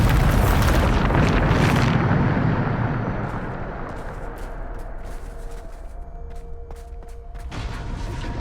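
The Bombarda spell in the Hogwarts Legacy video game bursts into a loud, booming explosion that rumbles for a couple of seconds, then fades into scattered crackling debris.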